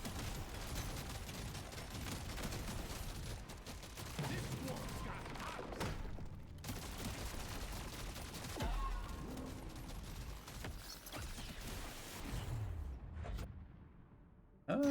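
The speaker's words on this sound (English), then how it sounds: "that sniper round's just tearing through them" Rapid sniper rifle fire rips through enemies in a video game, with dense bursts of shots and thuds layered over game effects, continuing almost nonstop with brief lulls.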